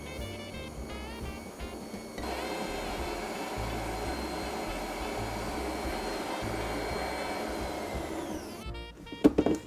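An electric mixer runs at low speed, beating choux pastry dough, with a steady whirring drone that holds for most of the clip before a brief burst of louder clatter near the end.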